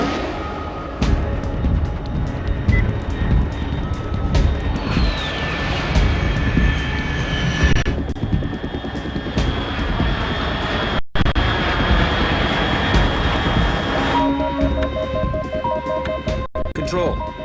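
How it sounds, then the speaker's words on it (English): A fast jet aircraft flies overhead in Metal Gear Solid 3, its loud sustained engine roar rising and falling for long seconds alongside game sound effects and a brief radio voice. "Unidentified aircraft detected."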